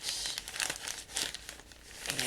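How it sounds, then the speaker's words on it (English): A plastic bag being handled while papers go into it crinkles in irregular bursts of close, bright rustling, with brief pauses between handfuls. "Find that plastic bag."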